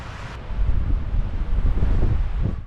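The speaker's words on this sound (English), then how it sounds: "So the wind's starting to pick up a little bit." Gusty wind buffets the microphone, a loud rumbling roar that surges and eases over a few seconds.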